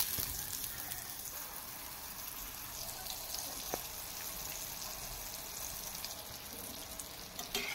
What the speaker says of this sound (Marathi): त्याच प्रकारे आता आपण उरलेली बाकीची वांगी देखील तेलामध्ये फ्राय करून घेऊया।